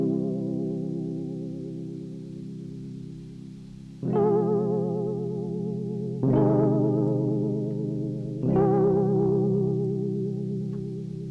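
A warm, slightly distorted synth pad in Ableton Live 11 plays sustained chords, changing three times with a soft filtered tone and a gentle wobble.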